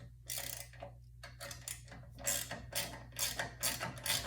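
A 1/2 inch socket wrench ratchets in quick bursts of clicking strokes while bolts are loosened on a Sole elliptical machine, close and fairly quiet over a low steady hum.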